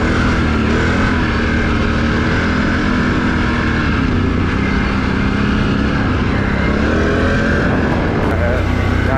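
Can-Am Renegade XMR 1000 ATV engine droning steadily up close as it rides a rough, sandy trail, a loud continuous roar with shifting pitch and off-road rumble throughout.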